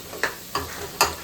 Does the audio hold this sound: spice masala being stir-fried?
yes